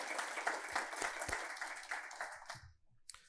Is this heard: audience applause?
yes